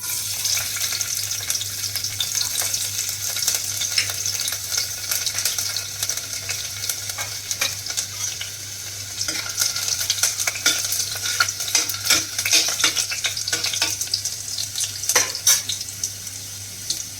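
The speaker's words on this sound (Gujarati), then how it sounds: "હવે આપણે શાકમાં પહેલાં લસણની કળી નાખશું" Garlic cloves fry in hot oil for a tempering before cluster beans go in, giving a steady close sizzle and crackle throughout, with occasional louder spatters and faint stirring.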